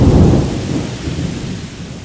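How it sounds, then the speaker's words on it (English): Heavy summer thunderstorm with pouring rain outdoors, a deep thunder rumble rolling loudly over dense, steady rain noise, no voices. "We're going to go for a little walk in the rain."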